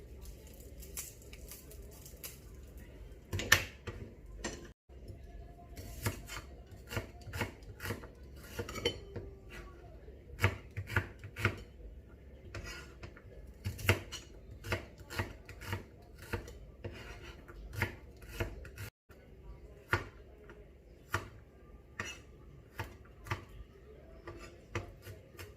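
Garlic being chopped with a knife on a cutting board: quick, irregular knife strikes and light clinks, close and fairly crisp, running steadily with brief pauses and no talking.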